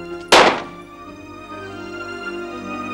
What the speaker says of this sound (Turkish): Az sonra içeriden tek el silah sesi duyuldu.